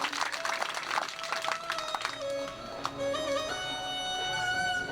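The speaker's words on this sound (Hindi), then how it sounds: "सबके लिए एक बार जोर से ताली बजा करके आइए।" An audience claps at a Hindu religious discourse on the Shiva Mahapurana. Brisk crowd applause mixes with sustained musical tones, and the clapping thins out as the tones carry on.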